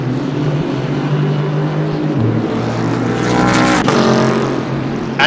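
A race car at Bathurst screams past loud and close, its engine note dropping sharply as the driver lifts off the throttle before the roar resumes.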